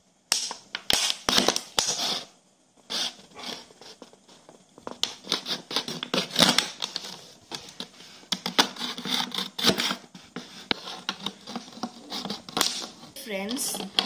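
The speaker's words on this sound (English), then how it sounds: "Next, we are going to cut the small circle." A knife cuts small circular holes into a plastic bottle for a school submarine project, giving dense crinkling, scraping and snapping plastic sounds in irregular close bursts with short pauses.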